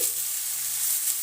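Finely shredded cabbage hits a hot frying pan with a steady, bright hiss of oil that holds evenly through the short moment.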